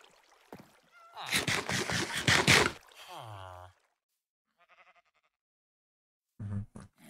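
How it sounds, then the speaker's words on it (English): A Minecraft sheep bleats in a wavering cry, with a rough louder sound just before it and faint game noises after, then a short low sound at the end. "It's a sheep."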